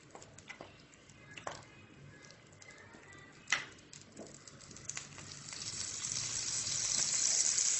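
Rava vegetable batter cooking in melted butter inside a stovetop sandwich toaster, a soft crackling patter with occasional pops that builds into a steady, louder sizzle toward the end.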